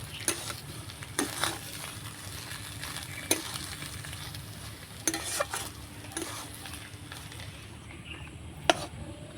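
Spiced potato filling for aloo paratha, with chopped coriander leaves, stirred in a pan over a continuous soft sizzle, spoon scrapes and taps landing every second or so at close range, no talking.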